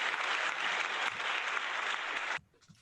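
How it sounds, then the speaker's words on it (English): Sustained applause from a conference audience fills the space as a steady dense wash of clapping, then cuts off sharply near the end. "See those claps."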